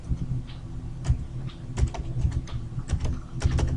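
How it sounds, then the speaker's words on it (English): Someone types a password on a computer keyboard, sending out a quick, uneven patter of close key clicks and thumps with short pauses between bursts. "type in a password."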